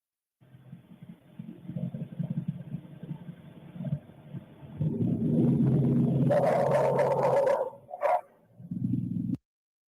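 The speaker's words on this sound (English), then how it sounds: "Two different dog barks right there." Muffled dog barking, said to come from two different dogs, fills a low, murky recording. Uneven bursts of sound build to a sustained loud stretch, followed by a short sharp yelp and a final burst before the sound cuts off.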